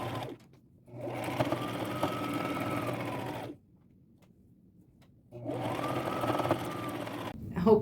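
Sewing machine stitching a boho belt made from upcycled materials, whirring steadily in two long runs separated by a short pause.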